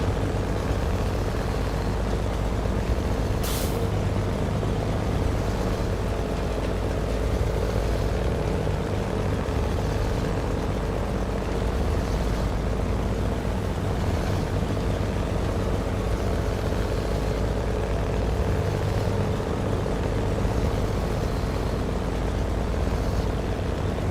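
A Kenworth truck drives in the game SnowRunner, a steady low engine drone with constant rumble and no breaks, holding at even loudness throughout.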